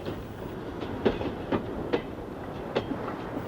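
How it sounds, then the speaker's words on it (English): A train rolls along steadily westward toward Mallaig with rhythmic clickety-clack of wheels over rail joints, moderately distant, no voices. "Our train crosses on its way westward to Mallaig."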